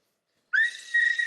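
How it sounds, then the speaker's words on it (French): A single clear whistle starts after a short silence, first rising and then held as a steady tone, rather faint and close. "Faut siffler encore."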